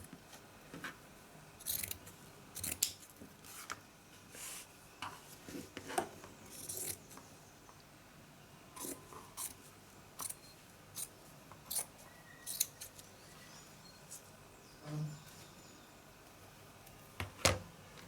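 Scissors snip through an odd-shaped piece of fabric in a quiet room, a string of short, crisp cuts spaced irregularly across the stretch, with no talking.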